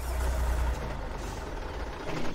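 A truck hauling straw on a farm in a farming video game rumbles with a heavy, steady engine drone, with a hiss like air brakes in a continuous, close mix.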